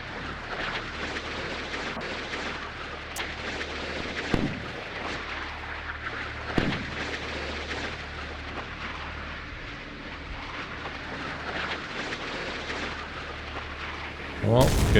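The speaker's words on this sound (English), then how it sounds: "Well, good hit. Straight into the radar." Missile hits explode on a ship in the naval game Sea Power: a dense rumbling battle din is broken by several sharp blasts at irregular intervals, ending in a loud close burst.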